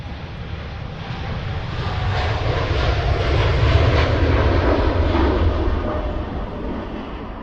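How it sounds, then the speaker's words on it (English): A Turkish Airlines Airbus A321neo at Manchester Airport, its jet engines a loud, continuous broadband roar that swells slightly and holds steady, heard alone without talk. "the Turkish Airlines Airbus A321 that will depart shortly for Istanbul is also one of their Neo versions"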